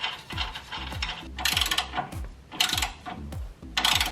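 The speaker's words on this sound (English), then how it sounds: "we're gonna take our washer and our nut and we're gonna tighten it down" A ratchet tightens a nut and washer onto the bolt of a Fox 2.5 Race Series coilover shock on a Tacoma front suspension, with repeated close clicking bursts and pauses between strokes.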